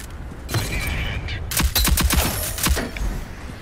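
Rapid bursts of gunfire from the video game Rogue Company, several sharp shots fired in quick succession with a short pause between bursts, loud and close.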